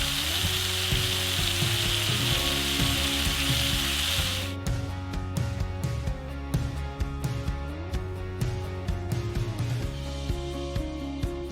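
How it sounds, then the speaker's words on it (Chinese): A steak seasoned with black pepper and sea salt sears in a pan over high heat. A loud, close sizzle fills the first few seconds, then drops to a quieter crackle broken by sharp clicks over a low hum. "第一步呢，我们先上锅，大火煎到1成熟多一点"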